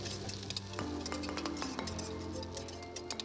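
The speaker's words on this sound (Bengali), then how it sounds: "বাঁধাকপি কুচিগুলো পেঁয়াজের সঙ্গে ভালোভাবে ভেজে নেব।" Chopped cabbage frying with onions in a pan, a soft continuous sizzle with scattered clinks and scrapes of a utensil stirring, fairly quiet and without talk.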